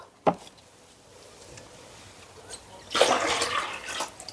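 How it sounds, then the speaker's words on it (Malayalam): A brief splash, a quiet pause, then a steady gush of waste water pouring out from an ornamental fish bowl for about a second, close by. "ബാക്കി വെള്ളം അങ്ങ് ഒഴിക്കാൻ പോവാണ്"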